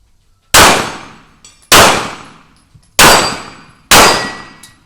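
Four loud pistol shots with practice ammunition ring out at steel plates about 15 metres away, evenly spaced roughly a second apart. Each sharp crack blends into a metallic clang that decays quickly, with faint ringing and small clinks between the shots.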